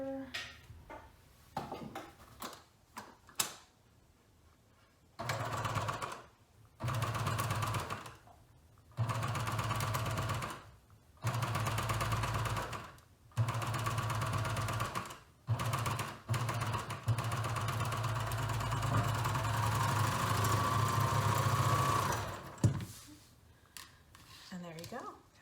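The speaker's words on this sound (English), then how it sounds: "we're going to go ahead and top stitch this a 1/2 inch to keep that seam allowance down that's on the back side" Sewing machine top stitching a half-inch seam, running in several quick bursts separated by pauses, then one long steady run near the end; a person talks softly between bursts.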